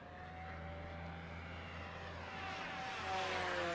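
An RC model airplane flying without flaps on high rates, a steady buzzing propeller drone that rises slightly in pitch and loudness toward the end as it passes, heard alone outdoors.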